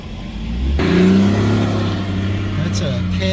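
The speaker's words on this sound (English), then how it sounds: "That's a Cat 966. That's a big boy." A Caterpillar 966 wheel loader at a quarry, its diesel engine rumbling close and then surging louder as it revs before settling into a steady drone.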